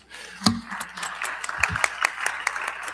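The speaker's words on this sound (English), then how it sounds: "So just a quick round of applause there, please." Brief scattered clapping from a small crowd at a school board of education meeting, a light round of applause with sharp individual claps, no talk over it.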